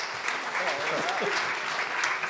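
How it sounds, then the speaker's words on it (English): Audience applause at the 2019 Kansas City mayoral primary debate, steady clapping from a crowd lasting the whole stretch, with faint voices underneath. "do these ladies and gentlemen deserve a round of applause for their fortitude?"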